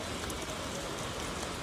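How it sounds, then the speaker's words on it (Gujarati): Heavy rain pours down steadily, a dense, continuous wash of drops close by with no other sounds. "હે વરસાદ"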